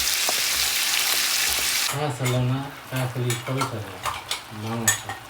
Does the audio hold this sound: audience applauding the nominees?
no